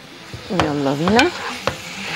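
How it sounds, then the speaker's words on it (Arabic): Meat is stirred and tossed in a pot while it fries, giving a few scraping strokes over a soft, close sizzle. "هديها بقى تشويحة حلوة"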